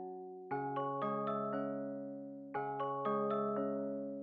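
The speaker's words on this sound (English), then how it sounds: "went with the Glockenspiel, this preset right here. Turned off the B oscillator, turned off the effects just to make it a little bit cleaner, and I made this simple little MIDI right here" FL Studio glockenspiel preset with effects off plays a simple MIDI melody: two identical phrases of bright, ringing struck notes, each note layering over the last as they decay, clean and quiet.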